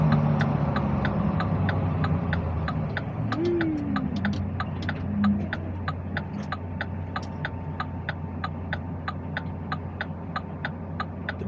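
A Mack truck engine runs while driving, a steady low drone with a regular ticking pulse over it, moderately loud and constant throughout, with no talk.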